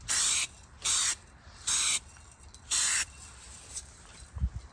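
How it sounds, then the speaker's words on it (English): A spray paint can mists light coats onto 1970s urethane car bumpers in four short, even hissing bursts with pauses between, close up, followed by faint handling knocks. "Just gonna mist it on just to get some kind of coverage."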